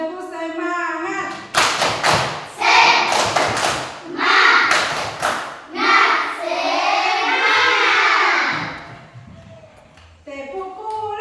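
A class of children does a rhythmic spirit clapping chant: bursts of sharp hand claps in a steady pattern alternating with the group's loud sung chanting, ending in a drawn-out shout, all close and lively.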